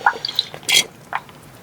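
Coolant drawn into an antifreeze tester from a 2012 Ford Focus, a few faint drips and a short liquid slurp and gurgle, close and quiet with no talk.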